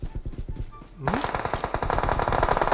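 Automatic gunfire in the mobile game PUBG Mobile, with rapid rhythmic shots rattling continuously and then growing louder and denser into a sustained, close barrage.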